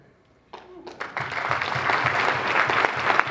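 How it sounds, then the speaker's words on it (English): A live audience bursts into applause at a talk show on commercial real estate, starting abruptly after a brief pause and swelling into steady, dense clapping that fills the room. "Big round of applause for"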